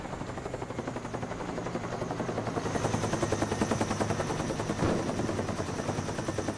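A care package helicopter arrives in a video game, its rotor beating in a fast, steady thump that grows louder as it comes closer and stays prominent throughout.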